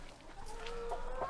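Backyard chickens cluck in a short, close burst of brief, throaty calls over a steady outdoor background.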